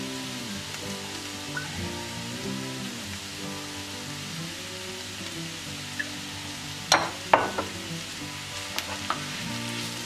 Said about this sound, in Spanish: Y ahora vamos a remover. Añadiremos un poquito de aceite porque veo que nos hace falta.